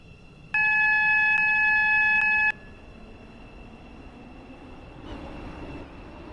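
Class 707 train in the Roblox Stepford County Railway game on a Stepford Connect service to Port Benton, a steady two-second electronic chime tone sounding alone, then quiet hum with a soft whoosh of train motion.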